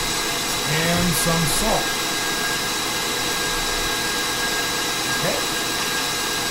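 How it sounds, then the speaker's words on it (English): An electric mixer whirs steadily and evenly throughout while mayonnaise is being made, with a person talking briefly over it. "so we stopped our mixer"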